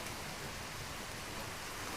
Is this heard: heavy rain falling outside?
yes